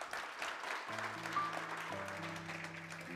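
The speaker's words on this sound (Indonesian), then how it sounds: "Kita beri tepuk tangan." Crowd applause at a church service fills the clip with a dense, steady patter, and sustained keyboard chords join in after the first second.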